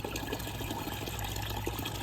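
Water pours steadily into a container outdoors in a garden, a continuous close rushing and splashing that fills the whole stretch with no talk over it.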